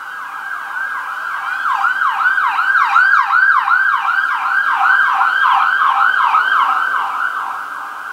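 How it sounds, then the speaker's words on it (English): A wailing ambulance siren cycles steadily up and down, loud and sustained, as it passes close by. "You might get deafened by a siren in a minute."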